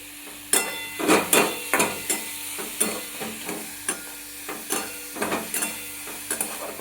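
Onion fries in a pan, a continuous close sizzle broken by a regular series of scraping stirs of a spoon or spatula, with no talking.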